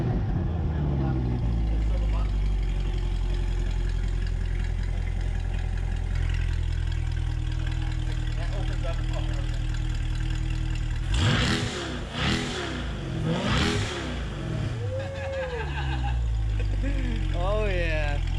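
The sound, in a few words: modified 2020 Chevrolet Corvette C8 V8 engine revving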